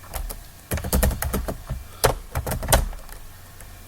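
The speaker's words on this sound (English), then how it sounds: "I can type anything, no problem." Clattering keystrokes on a computer keyboard at a UNIX terminal, close and loud, in irregular bursts with a brief pause near the start.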